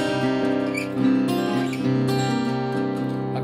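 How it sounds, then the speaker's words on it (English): A rare prototype Larry Coryell electric guitar made in Japan, played through an amp at low volume, with rich sustained chords and plucked note changes, loud and close with no talking. "I've never heard a guitar that sounds like this"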